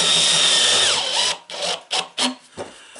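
A power drill driving screws into a Wildgame Innovations game feeder, a sustained whine winding down, followed by several short, sharp bursts of trigger pulls, close and loud, with no talk.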